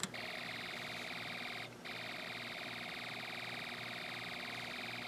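An Elenco Snap Circuits alarm IC meant to sound like a machine gun gives a faint, unbroken electronic tone with a buzzy, rapid-pulse texture and one brief dip in level.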